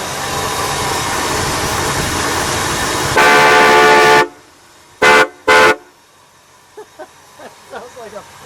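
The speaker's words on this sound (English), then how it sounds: "Now I see extra horns. Let's give that a toot, shall we?" Extra horns on a 1966 Buick Electra 225 convertible blare in a long loud blast, then two short sharp toots, with quieter talk between them.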